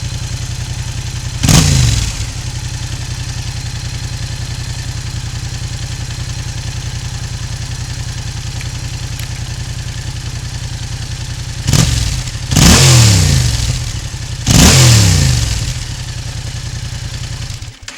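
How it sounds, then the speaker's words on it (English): Yamaha MT-07 motorcycle with a dB killer fitted in its exhaust, idling with a steady low burble and then blipped in three sharp revs near the end, loud and close with no talk. "Hear the exhaust there."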